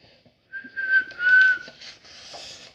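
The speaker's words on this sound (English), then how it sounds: "Can you whistle?" A person whistles a short wavering tone that breaks into a few breathy notes, close and clear, with no other sound around it.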